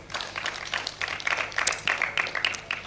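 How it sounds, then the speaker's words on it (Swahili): An audience at an African business women and youth trade fair and summit claps in a brief burst of scattered, moderately loud applause. "Naomba usimame tukupigie makofi."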